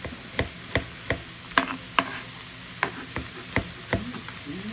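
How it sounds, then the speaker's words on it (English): Ground beef and chopped garlic browning in a pan for chili, with a steady soft sizzle broken by a series of sharp scraping stir strokes in an irregular rhythm, close and alone with no talk. "So we're browning 1 pound of ground beef"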